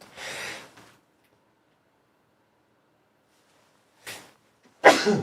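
Two bursts of breathy noise: a sharp sneeze near the end, preceded by a softer puff early on and a brief intake, with silence between.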